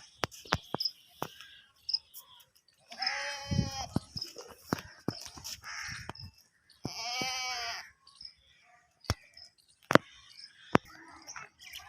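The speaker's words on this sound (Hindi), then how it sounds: "बकरा खड़ा है।" Goat standing by a village home with trees, bleating twice in long wavering calls, fairly close, among chirping insects and scattered sharp knocks.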